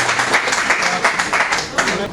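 Applause from an audience at an Urdu poetry mushaira in Bhiwandi as a poet is welcomed, dense loud clapping that stays steady throughout the short stretch.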